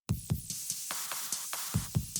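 Music loop processed with a Slate Murder Melodies plugin, high-pass filtered with its low end removed, gives a quiet, rhythmic pattern of short plucky hits with bright, airy ticks, repeating evenly at a moderate tempo.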